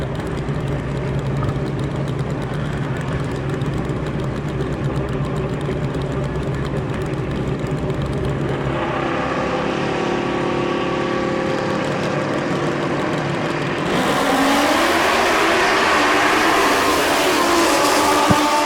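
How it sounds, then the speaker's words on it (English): Kawasaki drag racing motorcycle accelerating down the strip at a Mancup World Finals event, a loud sustained engine roar that rises sharply in pitch toward the end, heard alone. "Connell Smith got that Kawasaki hauling ass"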